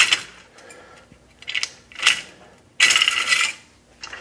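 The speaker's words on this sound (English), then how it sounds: "All you have to do is start the crank, and it will simply roll those rounds straight into the RPD belt." A hand-cranked RPD belt loader, a Gen2 prototype, feeds rounds into an L-type belt with a run of bright metallic clicks and rattles, several short bursts and then one longer rasping stretch, close and alone.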